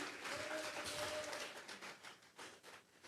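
Church congregation applauding during a Sunday worship service, a sustained burst of clapping that thins out and fades toward the end, fairly distant and soft.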